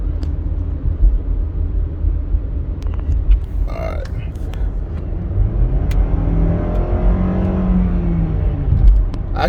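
A 2021 Nissan Rogue S accelerating in sport mode, heard from inside the cabin as a steady engine and road rumble with a rising drone, while someone talks over it.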